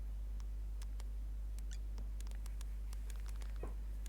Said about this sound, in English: My cat is doing some stuff in the background.